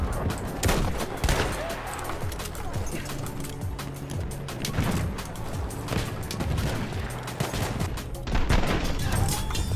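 Sniper rifle shots in Battlefield 1 crack out repeatedly amid dense, continuous battle noise, with distant gunfire and chaotic background action throughout.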